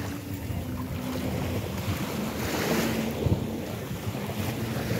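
Sea waves washing along a shore where fishing boats are moored, a steady loud wash mixed with wind rumble on the microphone and no clear voices.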